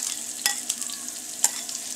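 Chopped onion frying in a pan for an omelet, a steady close sizzle broken by a few sharp scraping stirs, with no voices.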